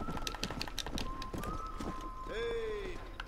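Horse hooves clip-clop at a run in the Red Dead Redemption video game, a quick repeated beat heard under shouted talk, with a brief rising whinny-like tone near the end.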